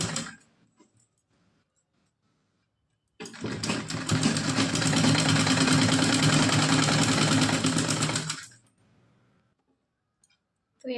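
A sewing machine stitching a straight line of lace onto a cotton dress for a small Laddu Gopal doll runs in one steady, close burst of about five seconds, with quiet gaps before and after.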